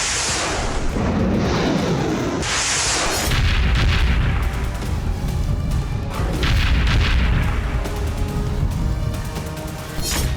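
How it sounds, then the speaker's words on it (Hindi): Several heavy booms from a missile strike on a Greek oil tanker in the Red Sea, deep blasts following one another with rumbling tails and crackling debris, loud and without voices. "एक साथ कई धमाके हुए और ग्रीस का जहाज आग की लपटों में घिर गया।"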